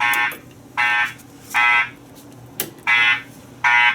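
A building fire alarm during an evacuation test, blaring in loud, evenly spaced electronic horn bursts, five blasts separated by short gaps, with no talking.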